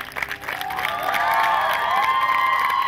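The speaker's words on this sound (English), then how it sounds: "Give them a huge round of applause." Audience at a 2015 hypnotist show cheering and whooping loudly, with a crowd roar swelling and holding steady throughout, no talk over it.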